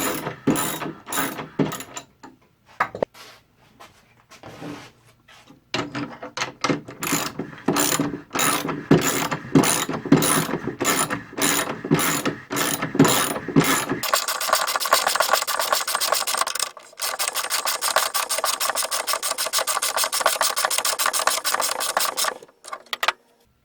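A wooden block is screwed onto a table leg with a ratcheting driver, making rapid repeated clicking bursts that give way to a continuous buzzing ratchet run, close and fairly loud.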